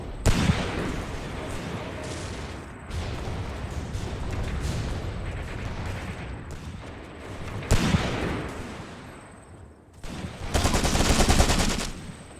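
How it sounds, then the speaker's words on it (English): Grenade blasts and gunfire in the WWII tactics game Graviteam Tactics: Mius Front, with bursts of rifle and machine-gun fire, heavy booming explosions and a loud crackling blast near the end, continuous and dense. "Throw a grenade. Throw a Stellhandgranate."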